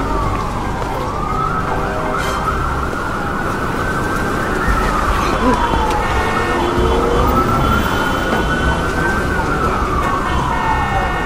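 A police siren in an animated cartoon wails in long rising and falling sweeps, loud and continuous throughout as it approaches, over a steady mix of background sound.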